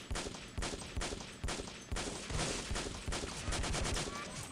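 Rapid, dense volleys of video game gunfire crack out in quick repeated bursts, loud and continuous, with automatic weapon fire dominating throughout.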